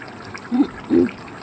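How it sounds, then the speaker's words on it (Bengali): Cooked pointed gourd, potato and shrimp curry slides from the pan into a bowl in two short, soft wet plops about half a second apart, close and fairly quiet. "তাই কেটে এবার আমি পাত্রের মধ্যে ঢেলে নিয়েছি"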